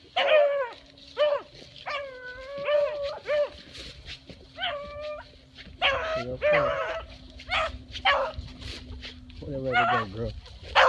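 A puppy yips and barks in short high-pitched bursts, some rising into whimpers, repeated across the stretch, while someone talks over and between the barks.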